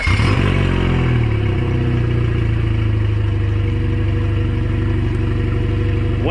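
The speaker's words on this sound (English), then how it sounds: "We're gonna go ahead and start this engine, check for leaks, and all that good stuff." A 2008 Mercury 115 four-stroke EFI 1.7L outboard starts up and settles into a loud, steady close-range idle with rhythmic mechanical clatter throughout.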